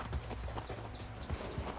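A white horse in the video game Red Dead Redemption 2 trots along with rhythmic clip-clop hoofbeats, steady and moderately close, with no talking.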